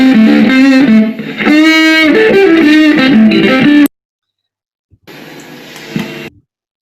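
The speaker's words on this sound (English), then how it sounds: "here with the distortion effect" A distorted audio effect applied to a tonal, harmonic signal, loud and continuous for about four seconds, then a short silence and a quieter, muffled distorted burst.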